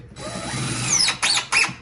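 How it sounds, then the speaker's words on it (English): Impact drill driving screws into wooden beehive boxes during assembly, a close, loud whirring run followed by two short bursts. "This is an impact drill, but if you'll notice, I'm not having to go to that point with it"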